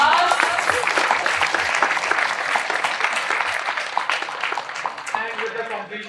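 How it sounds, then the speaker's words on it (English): An audience applauds the track prize winners at the Hack the East hackathon closing ceremony, a dense burst of clapping that slowly fades while a voice talks over it. "Big round of applause."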